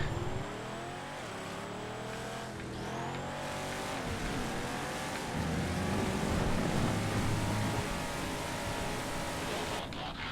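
Cars racing and overtaking in the video game GTA FiveM, including a rusty Vapid-style SUV, a Retinue and an Impaler, with engines revving and pitch shifting continuously, loud and close throughout.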